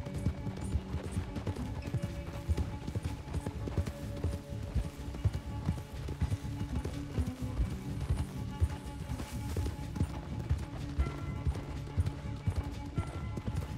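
Rapid hoofbeats clatter continuously at a galloping pace in Red Dead Redemption 2, with a busy, mechanical game-like texture underneath and no clear voices.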